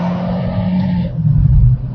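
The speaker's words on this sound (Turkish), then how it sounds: "Evet devir yükseldikçe güzel bir motor sesi geliyor." A Fiat Stilo 1.6 petrol engine hums and revs from inside the car, a loud, steady drone that shifts and swells in pitch near the end, with no talking.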